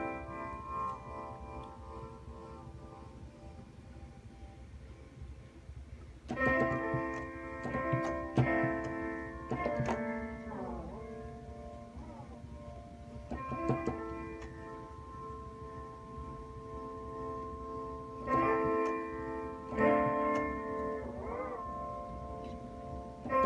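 Electric guitar played through several effects pedals at once, sustained chords and bends with a rich, layered, shimmering tone, quieter at first then swelling into louder strummed phrases.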